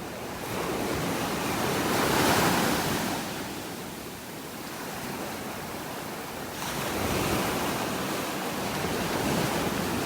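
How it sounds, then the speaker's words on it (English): Big Gulf of Mexico waves break and wash in a continuous roar on a beach in North Naples, Florida, surging twice over several seconds, with wind buffeting the microphone and no voices. "Big waves coming through there."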